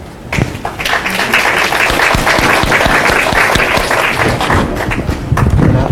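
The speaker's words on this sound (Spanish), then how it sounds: "Por favor, le pido un aplauso." Loud, close applause from an audience at a safety talk on dielectric gloves and grounding equipment, dense clapping with some thumps sustained for about six seconds.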